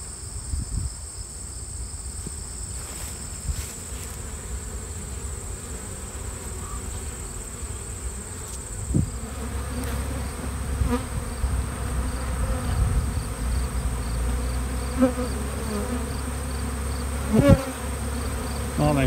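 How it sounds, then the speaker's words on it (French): Honeybees swarm and buzz in a dense, steady drone around beehives disturbed during a honey harvest inspection, with occasional louder passes near the listener and a continuous background hum. "On voit que ça s'active pas mal fort là, dans les ruches que j'ai dérangées."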